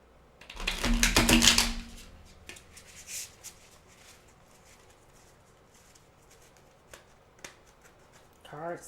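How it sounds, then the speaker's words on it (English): Tarot cards are shuffled in one quick riffle lasting about a second, crisp and close, followed by quieter card handling, a few soft taps and faint room noise. "Cards sticking together."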